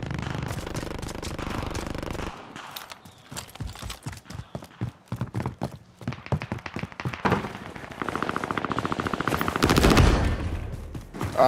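Rapid bursts of automatic gunfire in a Call of Duty Warzone match, crackling in quick repeated volleys. The firing grows denser and louder toward the end, with no talking over it.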